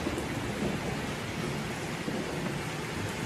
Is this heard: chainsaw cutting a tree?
no